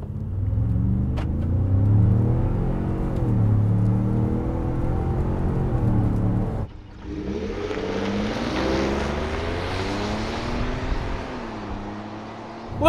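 A 2020 Ford F-150 King Ranch SuperCrew with a 3.5-litre EcoBoost engine rumbles at idle, then pulls away from a stop with a steady, rising engine drone and road hiss, heard close from inside the cab with no talk.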